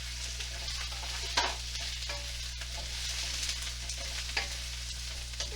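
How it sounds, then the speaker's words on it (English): Chicken stir fry with broccoli sizzles loudly in a pan as it is stirred, a constant close frying hiss with a low steady hum beneath and occasional scrapes, with no talk. "Stir that up good."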